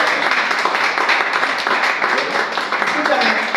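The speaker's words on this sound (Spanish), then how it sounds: "Dale tu aplauso." A church congregation applauding during a Sunday morning sermon, dense steady clapping throughout with voices mixed in.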